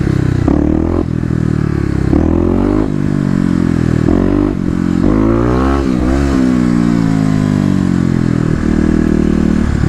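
A Kawasaki KLX250 dirt bike with an EJK fuel controller revs hard through repeated throttle blips, its engine note rising and falling loud and close throughout, with no voices.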